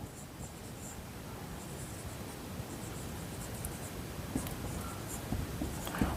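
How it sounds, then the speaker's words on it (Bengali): Chalk or marker scratches across a classroom board in a faint, continuous scraping stroke, quiet and close with light tapping near the end. "এবার দেখো আমি লিখবো এখানে"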